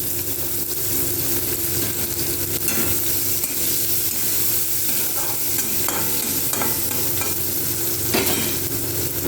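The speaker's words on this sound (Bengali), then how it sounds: "পেঁয়াজগুলোকে আমি লাল লাল করে ভেজে নেব।" Sliced onions frying in oil until browned sizzle steadily nearby, with occasional scrapes and clicks from stirring. No one speaks.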